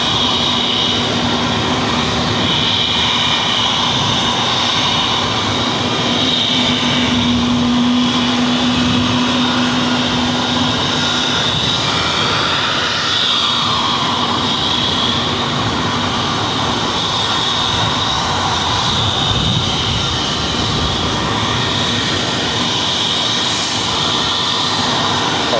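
A jet airplane taxis at Boston Logan airport, a loud steady engine whine and roar that holds throughout with a high-pitched tone on top, no talk heard.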